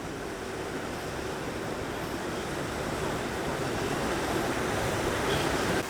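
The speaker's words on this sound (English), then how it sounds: "With water coming out of the lion's mouth." Steady broadband splashing of fountain water pouring from a lion's mouth outside Cologne Cathedral in Germany, a continuous rushing wash heard up close and unchanging throughout, with no voices over it.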